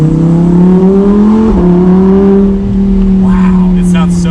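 A 2020 Lamborghini Huracan EVO Spider accelerates hard, its engine holding a loud, steady droning note that climbs slightly, with a brief dip as a gear shifts, then keeps pulling close to the microphone.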